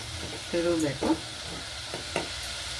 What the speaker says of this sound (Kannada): ಖಾರದ ಪುಡಿಯನ್ನು ಹಾಕಿ ಚೆನ್ನಾಗಿ ಒಂದ್ಸಲ ಎಲ್ಲ ತಿರುಗಬೇಕು